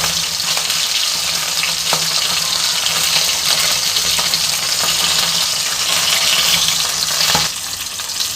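Fish head frying in hot oil in a pan, a loud continuous sizzle with occasional sharp crackles and spatters, steady throughout before easing slightly at the end.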